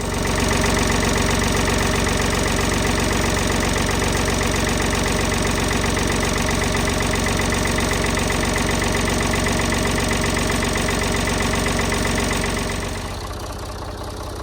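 An old tractor engine runs at a steady, loud idle with a dense, even chugging rhythm for most of the stretch, then drops off and quiets toward the end; no speech.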